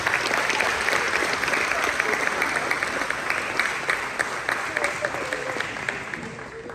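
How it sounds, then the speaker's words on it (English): A crowd at a high school sports awards night claps in a long, even round of applause, dense and steady throughout, with faint voices mixed in. "Give them another round of applause"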